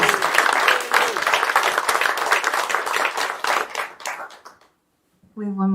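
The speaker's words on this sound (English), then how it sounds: "Give him a really warm round of applause." Audience applause at the Mainstay, a small live music venue, a dense burst of clapping that fills most of the clip, thins out and stops, followed by a brief pause before a voice begins.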